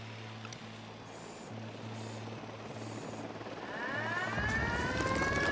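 Helicopter in the video game Ghost Recon Wildlands, a steady rotor drone with a pulsing hum that swells louder toward the end as the aircraft closes in, no speech.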